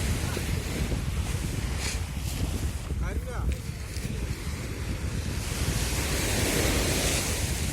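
Rough sea waves surge and break on a beach in a continuous roar where fishermen haul a net, with gusting wind buffeting the microphone throughout.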